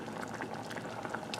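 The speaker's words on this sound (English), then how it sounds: "And it's boiling." Water boils in a pot with hot dogs, giving a steady, soft bubbling and hissing that stays constant and fairly quiet, heard close with no talking.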